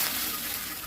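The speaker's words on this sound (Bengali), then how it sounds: "এখন দিয়ে দিব নারিকেলের রস" Coconut milk being poured into a pan of prawn and pointed gourd korma, a brief steady liquid pour with a soft, even splash.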